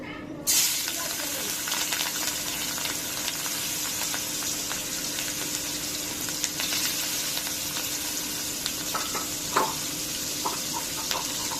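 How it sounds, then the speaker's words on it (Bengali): Onion and green chilies frying in oil in a pan for a pangas fish curry, a steady soft sizzle running throughout with a few faint clinks and stirring sounds, fairly quiet and without talk. "এখন পেঁয়াজ কাঁচামরিচ দিয়ে দিব"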